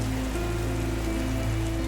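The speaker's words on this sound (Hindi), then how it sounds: "बाहर बारिश शुरू हो चुकी थी," Heavy rain pours steadily outside as a dense, constant hiss at even loudness throughout, with no voices.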